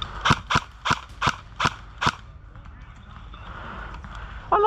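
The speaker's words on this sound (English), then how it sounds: "I like this AK." An airsoft AK rifle fires six sharp, evenly spaced shots in quick succession at close range, followed by quieter background noise of an outdoor airsoft game.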